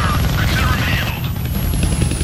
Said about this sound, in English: damn, they found the helicopter's on switch.